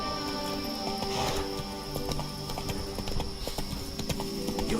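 Hooves of Roach, a horse in a video game, clip-clop at a steady running gait beneath a continuous game soundscape with tonal music, with no talking.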